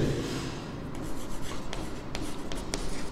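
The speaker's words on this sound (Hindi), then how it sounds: "मैं लिखता हूँ let" Hand writing on paper while solving a linear equations math problem, a faint rub at first, then scratchy pen strokes with several sharp ticks, close and steady with no speech.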